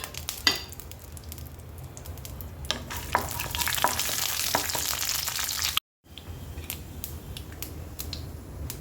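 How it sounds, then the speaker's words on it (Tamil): Mustard seeds, chana dal, urad dal and cashews crackle as they temper in hot oil in a kadai for oats upma, a close, steady sizzle with scattered pops and stirring scrapes and a brief cut near the end. "கடாயில் எண்ணெய் சுடாச்சு கடுகு கலப்பருப்பு உளுந்தப்பருப்பு கொஞ்சம் முந்திரி பருப்பு போட்டு தாளிச்சிடலாம்"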